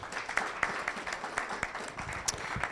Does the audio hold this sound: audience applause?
yes